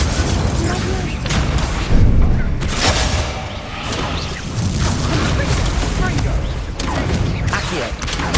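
Incendio fire spell cast in Hogwarts Legacy, a dense roaring blast with a heavy thump near the two-second mark, then continuous crackling, whooshing bursts that stay loud throughout.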